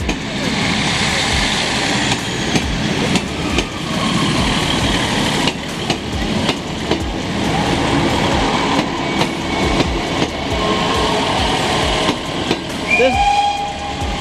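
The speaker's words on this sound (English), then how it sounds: "what then can happen is that another train comes in" A train rumbles in with rhythmic clicks of wheels over rail joints, an engine humming underneath and a voice talking over it.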